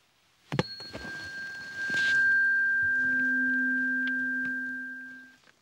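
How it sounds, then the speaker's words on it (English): A tuning fork is struck once and rings alone as a clear, pure, steady tone that holds for several seconds before fading out, with a faint knock at the strike. "A tuning fork."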